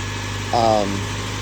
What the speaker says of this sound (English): An old 4-cylinder Mitsubishi engine.